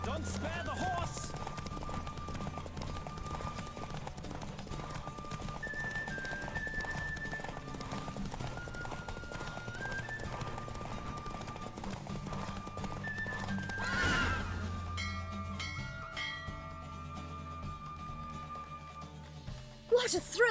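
In the video game The Witcher 3, a horse races along with a continuous galloping clip-clop of hooves and neighs several times over in-game music, and the hoofbeats stop near the end.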